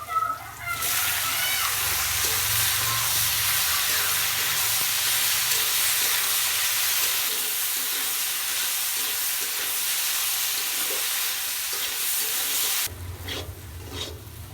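Flat beans tipped into a pan of frying onion, chilli and garlic give a loud, steady broadband sizzle that runs nearly the whole time, then drops off sharply near the end.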